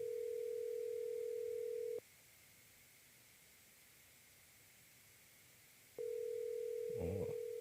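A telephone ringback tone sounds during an outgoing call: a steady tone for two seconds, a four-second silent gap, then a second ring that starts and is cut short by a faint brief noise, all heard alone at low level.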